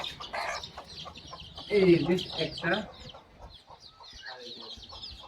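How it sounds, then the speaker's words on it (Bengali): Native country chickens cluck and squawk close by in a farmyard, with a louder burst of agitated calls midway, as someone speaks briefly between them. "এটা কিন্তু দেশি মুরগি"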